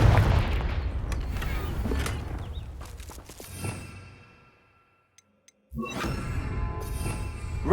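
Confringo blasting curse explosions in the Hogwarts Legacy video game: loud booming blasts with crackling bursts, a quieter gap with faint clicks, then another sudden heavy explosion that rumbles on to the end.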